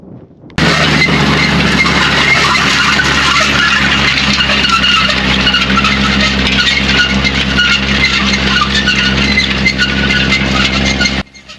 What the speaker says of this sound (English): So the machine I'm using is a Horsch Joker.